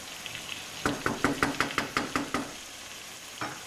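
Tomatoes go into a hot pan for biryani, followed by a quick run of about nine sharp rhythmic taps and sizzling bursts, then a single tap after a pause, with no speech.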